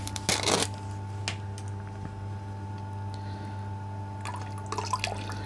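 An aquarium plant from a nursery pot is swished and rinsed in a bucket of water, producing brief splashes and dripping near the start and end with quiet gaps between, close and fairly soft with no speech.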